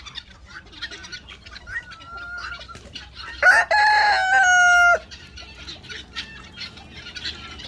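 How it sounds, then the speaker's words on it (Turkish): A rooster crows once, loud and close while held in someone's arms on a farm, a long strained cock-a-doodle-doo rising over quieter clucking and rustling in the background. "Kucağımda ötüyor erkeğe bak."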